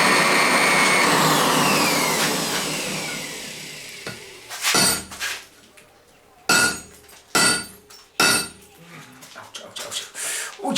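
Hot steel blacksmith tongs flattened on an anvil: after a steady roaring background, several loud, sharp hammer blows ring out in an irregular series of close strikes.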